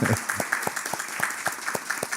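People at a formal city council ceremony applaud Alexandra Dias, a steady, moderate patter of clapping with individual claps standing out throughout the short stretch.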